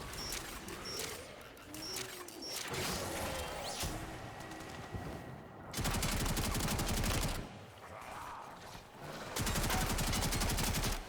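Bursts of rapid automatic gunfire from the Warframe video game, loud and dense, alternating with quieter stretches of scattered shots and mechanical clicks.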